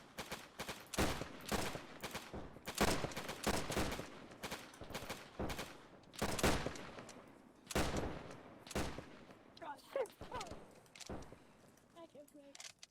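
Rapid video-game gunfire from an ARMA 3 live fire exercise, with dense bursts of automatic fire and single shots cracking repeatedly throughout, close and loud, while voices call out over the shooting.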